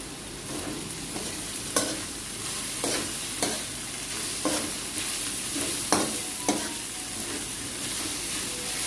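Sliced capsicum and shredded cabbage stir-fried together in a hot pan for vegetable fried rice: a constant loud sizzle with regular spatula scrapes and taps every second or so, close up and without talk.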